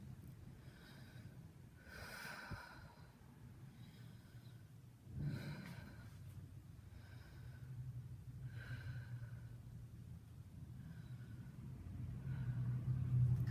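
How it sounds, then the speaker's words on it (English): A deep breath drawn while wearing a power corset, heard as a few soft, breathy inhales and snort-like sniffs over a low steady rumble, with one sharper gasp midway. "And if I take a deep breath"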